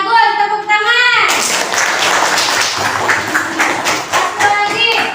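Classroom children break into a burst of hand clapping after a short stretch of speech, the claps continuing briskly and fairly close for several seconds before voices return at the end.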